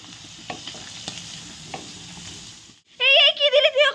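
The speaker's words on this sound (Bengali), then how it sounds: "একদম ছোট ছোট চিংড়ি মাছ দিয়েছে। এটাকেও একসাথে মা ভেজে নিচ্ছে।" Small shrimp frying in a pan for Bengali lau chingri, a bottle gourd and shrimp dish: a steady sizzle with light stirring clicks, then a high voice cuts in near the end.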